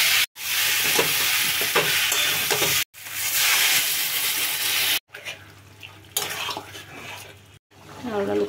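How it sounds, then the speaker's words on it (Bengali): Spoon stirring jackfruit, potato and fried prawns through a thick masala in a pan, scraping and sizzling in several bursts broken by short silences. "এবার ভেজে রাখা চিংড়িগুলো দিয়ে দেবো, নেড়ে চেড়ে এবারে জল দিয়ে দেবো"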